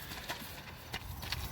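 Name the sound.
horse hooves clip-clopping as it is led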